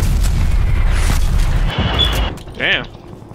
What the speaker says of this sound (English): Artillery targeting detected. Med call. Incoming artillery.